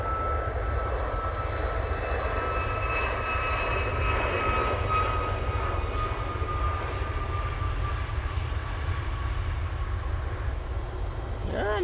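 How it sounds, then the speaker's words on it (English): A Ryanair airliner on its takeoff roll at Manchester Airport gives a sustained, fairly distant jet engine roar with a faint high whine, steady throughout, with a voice briefly heard over it. "Ryanair on the roll"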